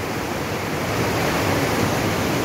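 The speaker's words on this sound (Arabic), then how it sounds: "شوفوا الماء تبارك الله" Water pouring over a small dam in Morocco, a dense continuous rushing roar of falling water that stays loud and steady from start to finish with no pauses.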